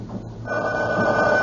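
A telephone rings in a radio drama, a steady trilling electronic bell sounding clearly and continuously for a moment over a faint low background hum.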